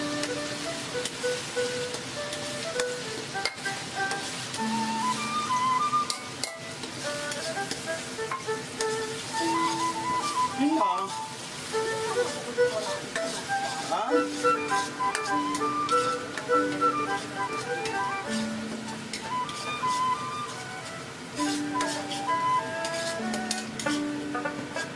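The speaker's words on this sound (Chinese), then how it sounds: "放入泡过的新香料，继续翻炒出味" New soaked spices stir-fried in hot seasoned oil with Pixian broad bean paste and ciba chili paste in a wok for spicy hotpot, a steady soft sizzle with scraping stirs beneath background music.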